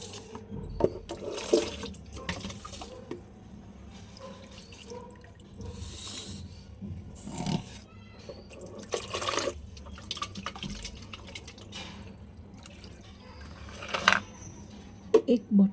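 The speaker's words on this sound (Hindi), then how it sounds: "थोड़ा पानी डालना पड़ेगा।" Water pours and splashes into a bottle in several intermittent bursts with drips between them, while someone talks over parts of it.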